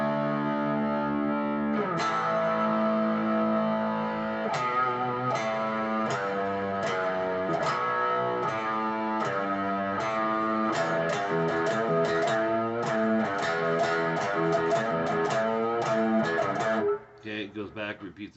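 Distorted electric guitar plays a riff, with chugging, heavily overdriven notes and chords in a steady rhythm that stops abruptly near the end.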